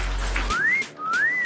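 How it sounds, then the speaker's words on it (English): A person gives a clear two-note rising whistle, each slide upward and held briefly, loud and close, following a short low rumble at the start. "that was a fantastic whistle"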